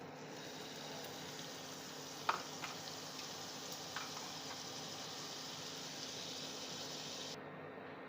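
Butter sizzles in a frying pan as a soft, steady hiss that lasts throughout, with a couple of faint clicks and no voices.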